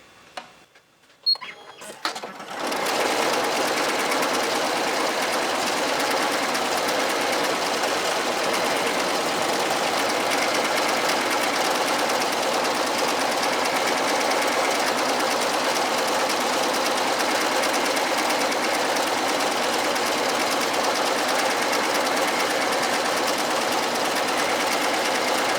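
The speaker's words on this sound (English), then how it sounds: "And now we are ready to sew again the top stitching." A sewing machine top-stitching a raggy machine appliqué starts after a few clicks and runs in one continuous, steady, close-up whir for over twenty seconds.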